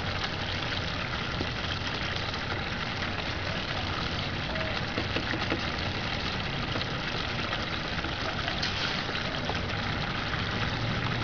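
Continuous wash of water running through a California sluice box bucket concentrator, a steady, fairly loud rushing flow with an engine-like pump hum beneath and no speech.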